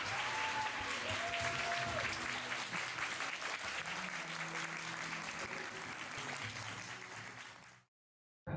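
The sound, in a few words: audience applause at lecture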